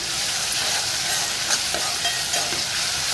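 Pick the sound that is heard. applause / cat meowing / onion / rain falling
onion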